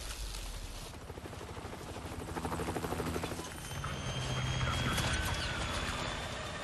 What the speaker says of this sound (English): Your teammate lands a chopper as you leg it past the cops and pile in.